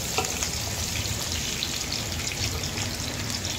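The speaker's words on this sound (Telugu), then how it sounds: "నూనె కాస్త వీటెక్కాక మనం సన్నగా పొడిగ్గా కట్ చేసుకున్న ఉల్లిపాయలు ఇందులో అయితే వేసుకోవాలి." Thinly sliced onions fry in hot oil for a drumstick curry, giving a steady, dense, close sizzle with no talk.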